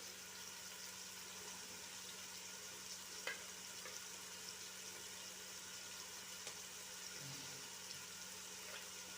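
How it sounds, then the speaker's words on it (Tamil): Chopped onion and chili powder frying in a pan for a white sauce chicken pasta, a steady faint sizzle running throughout with a couple of light stirring knocks and no talking. "அதையும் இந்த கறி கொச்சிக்காவையும் சேர்த்துக்கொள்வோம் அதையும் நல்லா கறிச்சு கறிச்சு கறிச்சுடுங்க கொஞ்சம் நல்லா வதங்கட்டும்"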